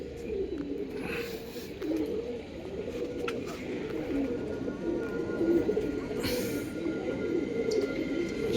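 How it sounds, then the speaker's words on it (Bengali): Pigeons coo softly and repeatedly around a loft after being released in the morning, a steady low murmur with faint outdoor background noise, at moderate distance. "তো পায়রা ছেড়েছি সকালবেলায়"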